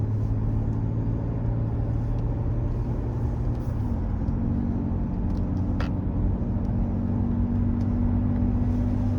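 A 2013 Cadillac SRX drives along with a smooth, steady low rumble of engine and road noise, heard from inside the cabin, unbroken and without talk.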